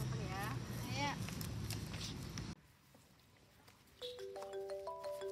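A phone rings with an incoming call after people talk in a room, the ringtone sounding as a short repeating electronic melody at moderate level once the chatter cuts off.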